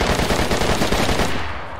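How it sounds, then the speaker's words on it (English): Rapid automatic gunfire in the survival video game DayZ, a loud sustained burst of closely spaced shots that tapers off near the end. "I just have to plant some bullets in him."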